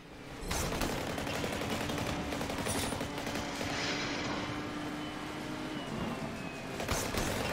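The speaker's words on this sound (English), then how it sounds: "We gotta stop that gunfire!" Rapid sustained gunfire rattles continuously in the video game Fast & Furious Crossroads, with dense bursts of shots layered over a rumbling background in a loud, chaotic exchange.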